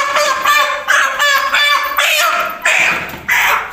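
A young rooster, a 36-day-old meat bird weighing about 3 kilograms with feathers still growing in, gives a run of loud, close, rhythmic honking calls, about six in a row at steady intervals.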